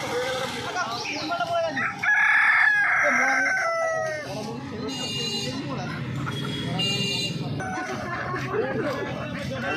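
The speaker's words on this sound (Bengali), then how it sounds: "দেশি মুরগির কালেকশন প্রচুর রয়েছে আজকে হাটে" Native country chickens at a crowded hen market in Uluberia cluck and crow, with one long rooster crow standing out early over a constant background of market chatter and voices.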